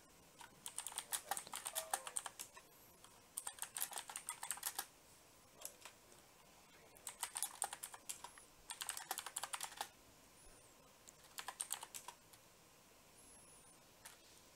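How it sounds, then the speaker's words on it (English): Bursts of rapid clicking on a computer keyboard come in several clusters separated by pauses, fairly close and crisp, with no talking over them. "I can hear you typing though."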